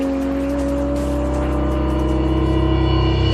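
A high-performance sports car runs a fast hot lap on a racetrack, its engine roaring loud and close with a steady, rising drone and a touch of tire noise throughout.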